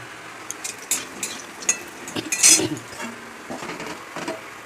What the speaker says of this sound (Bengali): তেল গরম হয়ে গেছে, বড়িগুলো ভেজে নিই